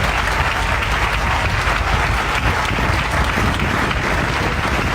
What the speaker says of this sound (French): J'aimerais qu'on acclame vivement le Seigneur.